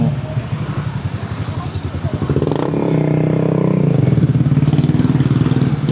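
A motorcycle engine runs close by with a steady, chugging low throb that rises slightly in intensity partway through. Its rhythmic pulsing continues throughout, with a voice audible over it.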